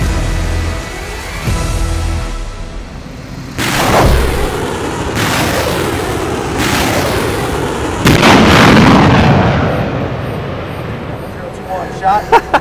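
A US Army HIMARS rocket launcher fires in a series of loud, heavy booming blasts spread over several seconds, with rumbling aftermath between them and voices in the background.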